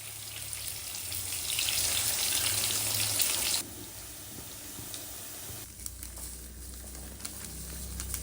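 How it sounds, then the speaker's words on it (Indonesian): Food sizzles in a hot pan in a home kitchen, a bright steady hiss that cuts off abruptly partway through, then quieter sizzling with faint clatter returns. "Mau aku goreng sebagian."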